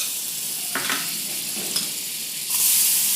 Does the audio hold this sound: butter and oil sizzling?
yes